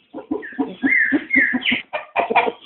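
A bearded chicken clucks close up in a quick series of short, throaty clucks, with a couple of higher drawn-out squawks in the middle, loud and alone.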